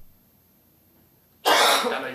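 A single loud, sharp cough bursts out near the microphone at a press conference, breaking a stretch of near silence and trailing off over the last half second.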